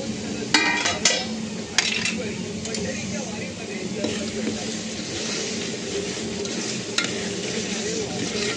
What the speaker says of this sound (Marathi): भाजत आलाय आता आपला मसाला। आपण आणखीन थोडासा भाजू द्यायचा।